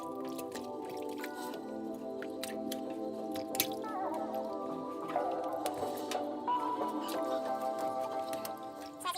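Oxtail pieces swirled in a bowl of washing liquid for a Jamaican-style dish: soft, wet squishing and dripping sounds beneath steady background music.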